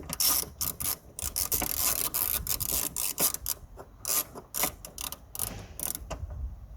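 A ratchet undoes a 10mm nut on a Peugeot 3008 tail light, giving a quick run of close, dry clicking and rasping strokes in bursts, with no talk.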